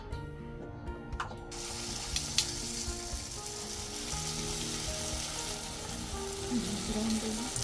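Tikoy turon frying in a hot pan, a constant, close crackling sizzle that starts abruptly and continues steadily, with a few faint clinks along the way.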